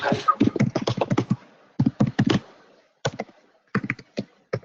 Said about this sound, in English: Somebody's typing.